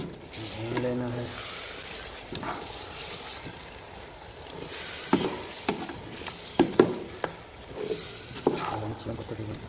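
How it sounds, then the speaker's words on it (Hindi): Chicken pieces browning in a pan for a chicken bhindi curry, with a steady soft sizzle and repeated scraping, clattering stirs that grow sharper toward the end, moderately close. "चिकन को तकरीबन से 8 मिनट जो है भून लेते हैं अच्छी तरह से जी।"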